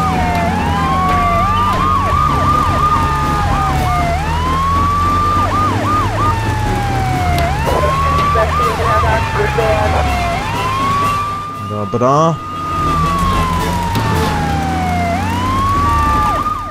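Police car sirens wail in repeated rising-and-falling sweeps during a Grand Theft Auto 3 car chase, loud and continuous over engine rumble and game noise, with a brief dip near the end and someone speaking once.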